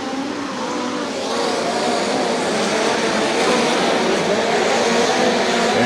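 USAC National Midget race cars roaring around Angell Park Speedway, a loud continuous engine drone from a pack of cars that holds steady and swells slightly as they brake into the turns.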